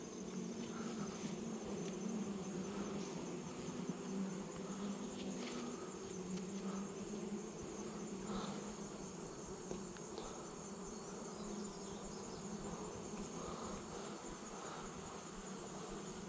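Honey bees buzzing around an opened beehive frame, a continuous dense hum of many insects at low level, steady throughout with no voices.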